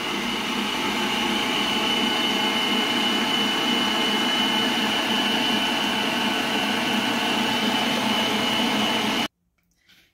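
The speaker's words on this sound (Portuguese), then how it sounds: "Então, aqui eu começo a bater, tá? Uma velocidade baixa, e aí eu vou acrescentando o leite." An electric mixer beats homemade strawberry ice cream on low speed with a steady, continuous whirring drone that stops abruptly near the end.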